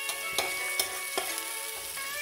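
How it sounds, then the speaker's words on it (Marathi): Onion and green chili fry in hot oil in a pan, giving a steady close sizzle with soft periodic stirring scrapes, no voices. "मिरची सुद्धा मी कांद्यामध्ये चांगल्या प्रकारे मिक्स करून घेत आहे।"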